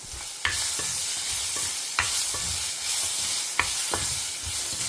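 Pirandai (adamant creeper) and dried red chillies sautéing in a pan, a steady close sizzle with a few sharp spatula scrapes and taps spaced through it, no voices.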